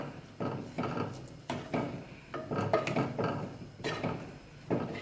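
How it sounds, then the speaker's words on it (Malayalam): A chana masala curry with kasuri methi is stirred in a pan at home, giving repeated soft scraping and rubbing strokes of a spoon against the metal, close and moderately loud, with no talking. "നന്നായിട്ട് മിക്സ് ചെയ്ത് കൊടുക്കാം."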